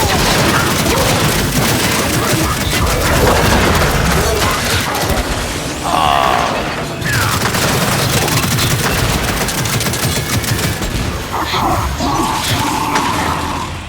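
Dense, continuous gunfire and explosive booms from the video game Gears of War 5 fill the scene, with rapid automatic bursts and crashing impacts layered loudly throughout, and voices break in now and then.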